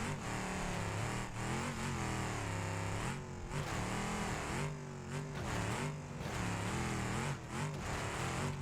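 An off-road truck drives over desert trails in BeamNG.drive, its engine droning steadily and rising and falling in pitch as it revs, close and continuous.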